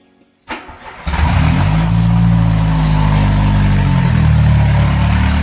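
An Opel Corsa C utility engine cranks briefly, then catches and settles into a loud, rough, steady idle with a deep rumble, close by and unmuffled, with no exhaust connected.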